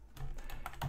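Keys on a computer keyboard clatter in a quick, uneven burst of close taps, typed alone and fairly soft.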